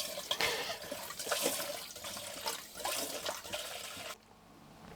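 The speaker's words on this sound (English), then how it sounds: "So I decided to opt for a manual foot pump, some vinyl tubing, and military jugs, which seems to work just fine." Water is pushed by a manual foot pump through vinyl tubing from military jugs inside a cargo van conversion, a steady close gushing pour that runs for about four seconds and then cuts off to a faint trickle.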